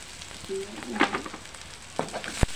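Chorizo frying in a pan gives a soft, continuous sizzle with scattered pops and a few sharper clicks of a utensil. The sound is close and fairly quiet, with no talking.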